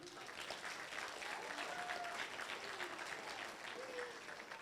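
Applause from an awards and induction ceremony audience, steady and fairly distant, with scattered voices and a few whoops over the clapping.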